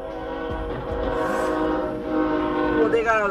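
A train horn sounds at a rail crossing, a sustained multi-tone blast that swells and holds, with a second sharper blare near the end over steady rumbling traffic noise.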